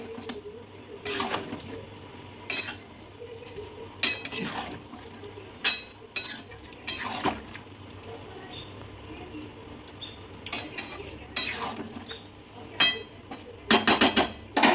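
Food with salt, soon to have prawns added, is stirred in a cooking pot, with irregular sharp scrapes and knocks of a spoon against the pot over quiet bubbling, some clusters busier than others.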